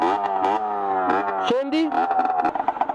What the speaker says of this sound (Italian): Senti la marmitta?